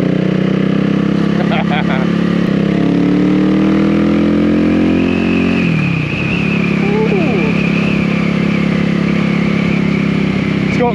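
The engine of a CCM Stealth Bobber motorcycle rises in pitch as the rider accelerates through the gears. Its loud, steady drone drops once around a shift and then climbs again, heard close from the bike, with wind noise throughout.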